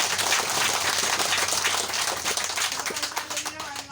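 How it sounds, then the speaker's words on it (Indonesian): Applause from an audience at a campaign rally for village head candidates in Benteng Tubi, a dense steady clatter of many hands clapping throughout, fairly loud and continuous. "Tepuk tangan, tepuk tangan, tepuk tangan."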